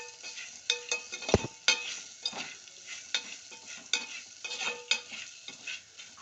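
Bitter gourd frying in a pan, with soft oil sizzle broken by repeated scraping stirs and clinks of a utensil at a close, steady pace.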